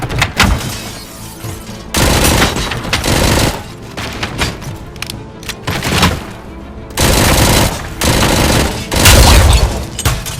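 Gunfire in a robot test shootout in an abandoned factory in the video game RoboCop: Rogue City, with loud bursts of automatic fire, short pauses between them and heavy impacts. No voices.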